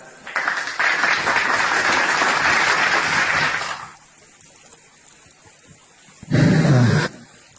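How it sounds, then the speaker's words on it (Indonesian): Church congregation breaking into loud applause for nearly four seconds, a dense roar of clapping that drops to near quiet, then a short, loud burst of rumbling noise returns briefly near the end. "Tepuk tangan."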